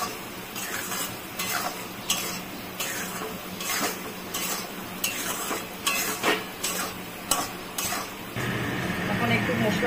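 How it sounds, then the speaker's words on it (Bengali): Ground spices, including Kashmiri red chilli powder, are fried in a pan while a spoon scrapes and clinks against it in repeated strokes over a soft sizzle, with some voices in the background. "এখন একটু মশলাটা, শুধু মশলাটা দিয়ে ভেজে নিলাম।"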